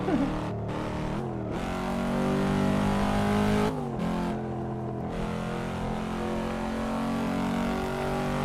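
Car engine in the video game American Truck Simulator, a loud steady drone with rising rev sweeps and brief drops as gears shift, heard alone without talk.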